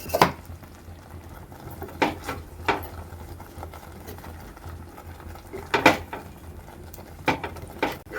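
Sweet curry stirred in a pan, with a low bubbling simmer underneath and scattered sharp spoon scrapes and clinks against the pan, close by and moderately loud.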